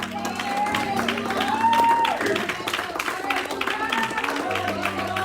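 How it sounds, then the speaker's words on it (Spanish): A church congregation claps in praise, a moderate wash of applause with voices and cheering mixed in, over a low steady hum. "Dale un aplauso, Señor."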